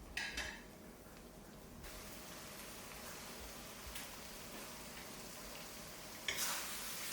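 Spicy Thai pork curry with eggplant being stir-fried in a wok until the coconut-milk sauce reduces and dries, giving a steady low sizzle with scraping and stirring, and a louder clatter of the utensil near the start and again near the end.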